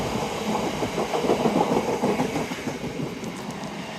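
A freight train with a mid-train distributed power locomotive passes close by with a steady loud rumble, rhythmic wheel clatter and engine drone throughout.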